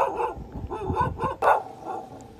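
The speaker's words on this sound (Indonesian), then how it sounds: "ada guguk tuh, guguk." A dog barks in a short run of four or five close, fairly loud yaps during a walk out by rice paddies, with outdoor background noise around them.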